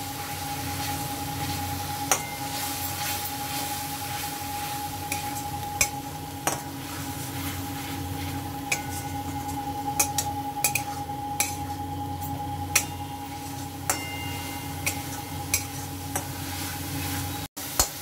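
A spice mixture is sautéed in a pan, a low hiss and sizzle running underneath while a metal spoon clinks and scrapes against the pan at irregular intervals, close by and with no talking.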